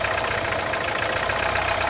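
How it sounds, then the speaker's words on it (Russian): A car engine idles evenly and steadily after a throttle adjustment, a continuous close rumble with no dips or stumbles, heard alone. "Но зато двигатель ровно работает, даже если газануть, то он всегда становится на свои места."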